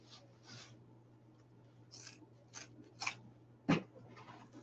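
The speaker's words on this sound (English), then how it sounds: "And then I'm going to trim it off." Scissors trim ribbon while a dog-themed wreath is being made, a few quiet, separate snips and rustles over a faint steady hum, ending with one sharper cut.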